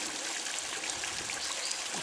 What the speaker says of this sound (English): We'll call that Jack's waterfall